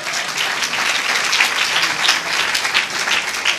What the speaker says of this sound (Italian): E cascata l'applauso in genere.